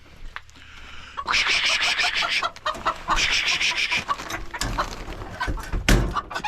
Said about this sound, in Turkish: Tavukları da besleyelim.